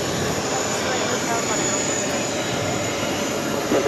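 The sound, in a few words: jet airliner with special Copa livery taking off at JFK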